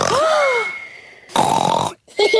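A cartoon voice imitates loud snoring with a long, rumbling snort, then follows with a couple of shorter grunting snores after brief pauses.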